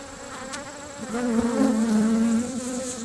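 Agitated honeybees buzzing loudly and close during a hive inspection, a dense, continuous hum that swells in intensity, with no talk.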